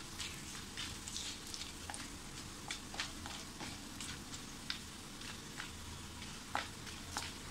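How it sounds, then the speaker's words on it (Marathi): Cardamom, cinnamon pieces and cloves sauté in oil for dhaba-style paneer masala, making a quiet, continuous frying hiss scattered with small crackles and pops, with no voices. "आपल्याला हे थोडंसं आपण असं परतून घेऊ."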